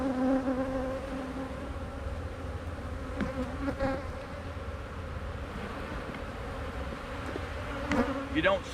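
Honeybees drone steadily as a beekeeper jiggles them off a brood frame, a close continuous buzzing hum with a few brief louder whines near the end.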